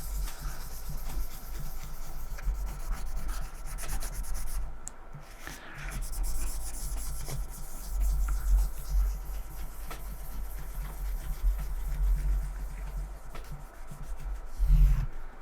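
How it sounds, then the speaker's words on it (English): Finish rubbed by hand into the wood of a Jackson electric guitar makes a continuous, close, dry rubbing and swishing sound that lasts throughout with no pauses or voices. "Make sure I get it all rubbed into where it needs to be, and then I'll come back and rub off the excess."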